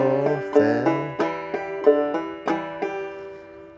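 Clawhammer banjo fill of brisk strums mixed with hammer-on chord notes, a quick run of bright twangy plucks with ringing tails, close and solo.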